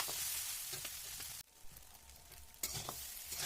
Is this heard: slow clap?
no